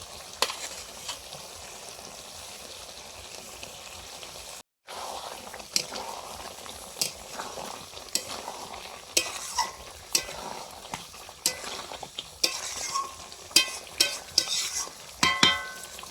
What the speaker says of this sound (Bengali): মাংসের আলুগুলো এবার দিয়ে দিচ্ছি